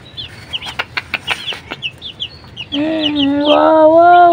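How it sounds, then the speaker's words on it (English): A rapid run of clucks, then a sustained vocal sound, likely a person, alongside soft chirpy clucking nearby. "So cute, cute, chicken."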